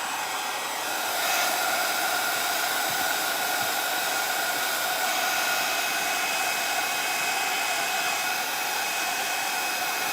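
Hair dryer blowing on glitter craft paint on a wooden Dollar Tree Easter egg, a loud, steady, even whoosh held alone throughout.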